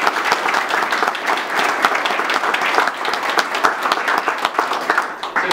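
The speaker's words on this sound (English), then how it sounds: "let's give everybody a round of applause" Audience applause at an event with Florida Governor Rick Scott at Hammock Beach in Palm Coast: dense, steady clapping from a sizable crowd, sustained evenly for several seconds with no voices over it.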